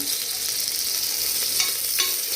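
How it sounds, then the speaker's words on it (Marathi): Slit green chillies frying in hot garam masala oil for a dhaba-style chicken curry, a steady close sizzle with occasional stirring scrapes and small spikes. "गरम मसाल्यामध्ये मी आता दोन तीन चार उभ्या मिरच्या कापलेल्या आहेत त्यात टाकतो"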